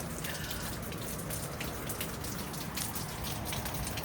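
Steady rain falling outdoors with soft, dense patter and scattered drips, even and continuous throughout, moderately quiet with no voices.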